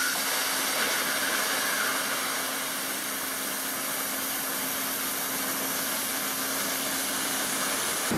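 A plasma cutter's arc hisses steadily and loudly through steel, holding a constant roar with a faint steady whine underneath, then cutting off abruptly at the end.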